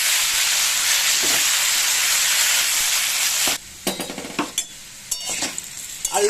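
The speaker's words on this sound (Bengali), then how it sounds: "ভালো করে নেড়ে চেড়ে এটাকে ভেজে নেব।" Potatoes with salt and turmeric fry in a pan, a loud, dense hiss of sizzling oil for the first half, then a quieter sizzle broken by close spoon scrapes and clatters as they are stirred; no voices.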